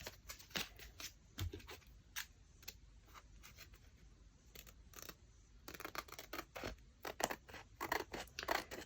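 Scissors trimming paper for a junk journal pocket, a series of close, crisp snips and paper rustles in an irregular rhythm, a few cuts, a pause, then quicker cutting toward the end.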